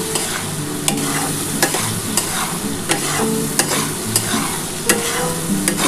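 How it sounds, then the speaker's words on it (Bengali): A thick spice paste for a fish and potato curry sizzles steadily in hot oil while a spoon scrapes and taps the pan at irregular intervals. "ভালো করে মশলাটা কষিয়ে নেওয়ার পর"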